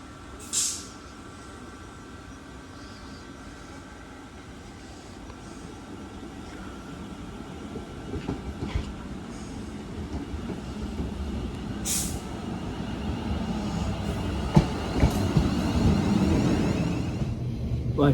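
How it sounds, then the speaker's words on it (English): Class 350 electric train 350-408 bound for Stafford approaches a station from the distance, a faint rumble that slowly grows louder, with a few short hisses of air brakes along the way. "Right here in the distance, here comes my train, which is going to Stafford"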